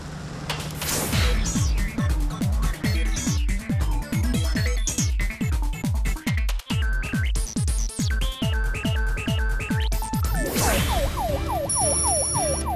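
A fire engine siren wails continuously and loudly, rising and falling in rapid repeated sweeps as the truck responds to a house fire in a residential area at night, with traffic noise underneath.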